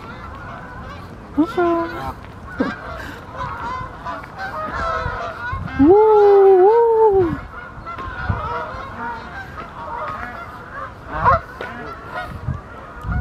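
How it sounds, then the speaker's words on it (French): Geese honking on a frozen lake in snowy Bois de Vincennes, Paris, with scattered calls and one loud, drawn-out honk close by, while a person speaks briefly amid outdoor noise. "Les oies marchent sur le lac gelé."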